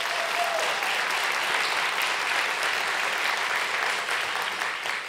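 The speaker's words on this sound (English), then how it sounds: "She deserves a huge round of applause." Sustained applause from a symposium audience at the CODEX Foundation, a dense, even wash of many hands clapping at close range, steady throughout with no voices on top.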